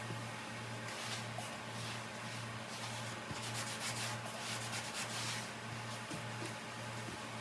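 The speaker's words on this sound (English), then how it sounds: "I am wiping everything down really thoroughly before I put it back." Shelves, ledges and small items are wiped down by hand during deep cleaning, producing a steady soft rubbing and swishing that is fairly faint, over a constant low hum from the room.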